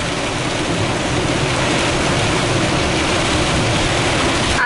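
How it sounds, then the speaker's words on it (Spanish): Heavy rain pours down without pause at a high mountain spot on a camper van trip. It makes a loud, dense, even hiss and roar throughout, with no voices. "está diluviando"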